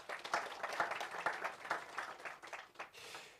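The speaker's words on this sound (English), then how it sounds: "let's give a warm round of applause for the Premier of the Free State" Audience applause at a press conference for a city running series, a steady patter of clapping from a crowd that swells and fades over a few seconds, fairly soft and heard alone.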